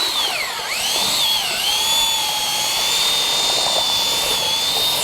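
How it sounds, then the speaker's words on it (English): Drill with a mixing paddle stirring two-part Sika Pro-Tecta metal roof coating, a steady high-pitched whine that dips briefly early on then holds constant, close and loud. "we're going to use a drilling paddle to mix it up till it's uniform"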